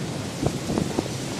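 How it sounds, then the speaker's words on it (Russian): Steady, rushing wind buffets the microphone, with a few low gusts swelling briefly over the constant roar. "О, ветер усиливается."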